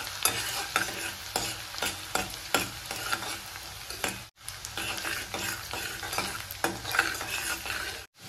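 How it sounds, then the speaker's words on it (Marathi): Finely chopped onion sautés in hot oil in a pan, sizzling steadily while a utensil stirs it in quick repeated scrapes, close and fairly loud, with two brief breaks and no talking. "यात आपण 1 बारीक चिरलेला कांदा घालूया। कांदा छान लालसर होऊ द्या।"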